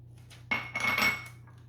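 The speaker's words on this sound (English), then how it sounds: "So I'm going to mix all that into a bowl here." Ground Spam and meats are stirred together in a bowl: a few quick clinks and scrapes of a utensil against the dish, close and fairly quiet over a low steady hum.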